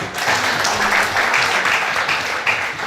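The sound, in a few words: audience applause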